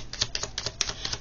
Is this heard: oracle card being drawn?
yes